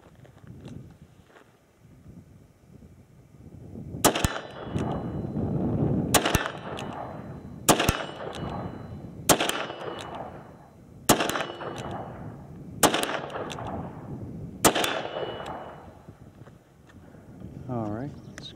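Smith & Wesson Performance Center 686 Plus 5-inch seven-shot .357 Magnum revolver fired outdoors at a target about 41 yards away: seven loud, sharp shots at a steady pace of roughly one every one and a half seconds, each followed by a short ringing decay.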